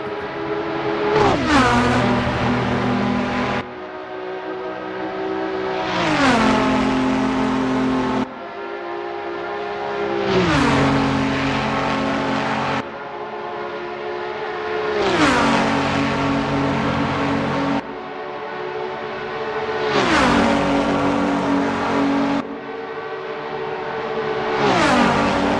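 Group C-era race car engines from a Le Mans 1985 racing video game, running nose to tail down the Mulsanne straight: a loud, continuous engine roar that climbs in pitch and then drops at each gear shift, repeating roughly every five seconds with no voices.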